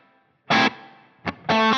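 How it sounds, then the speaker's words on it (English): Distorted electric guitar run through a Line 6 Helix with a room reverb, playing a loud chord stab, a short hit, then another sustained chord, each leaving a brief roomy tail. "So there's a very nice room reverb sound"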